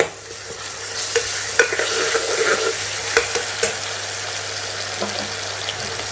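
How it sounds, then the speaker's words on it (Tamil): Onions sauté and sizzle in a pan with oil while being stirred for Hyderabadi khichdi, a steady close frying hiss broken by small scraping clicks of the spoon. "இதுக்கு வெங்காயம் வந்து ரொம்ப ப்ரௌனாக பிரியாணிக்கு வதங்குற அளவுக்கு வதங்க வேண்டியது இல்லைங்க"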